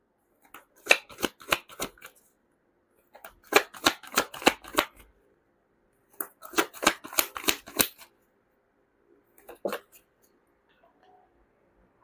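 Tarot cards being shuffled by hand in four separate bursts of quick, crisp riffling flutters with short pauses between, close and clear with no talking.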